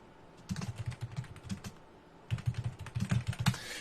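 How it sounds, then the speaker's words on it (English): Typing on a computer keyboard, two bursts of quick, close key clicks separated by a short pause, with no talking over them. "sound of the keyboard, the sound of the defeated man"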